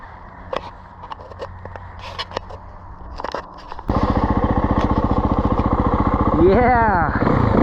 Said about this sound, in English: Got the 2024 YZ450FX. Gonna take it for its first break-in ride.